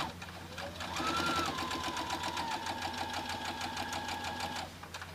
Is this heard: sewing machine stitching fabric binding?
yes